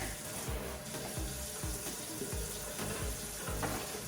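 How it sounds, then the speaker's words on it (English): Green onions rinsed under a running kitchen tap, with a continuous water splash and rhythmic lower gurgles as the stalks are moved through the stream, no talking. "Gotta rinse them out, all that. Give them a nice little wash down."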